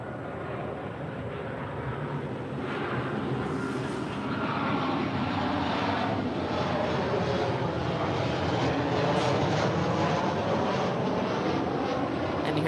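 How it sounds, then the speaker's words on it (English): A WestJet Boeing 737-800 arriving from Calgary lands at LAX, heard as a steady, broad engine rumble that builds slightly and holds, moderately loud and distant, with no voices. "here is a WestJet 737-800 coming in from Calgary"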